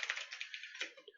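C++ code being typed on a computer keyboard, a quick rapid run of soft key clicks, close but quiet, with no voices.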